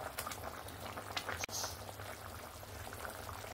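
Katla fish curry broth with potato and pointed gourd bubbles in a pot on the stove, a soft, steady simmering crackle and fizz that stays low and even throughout.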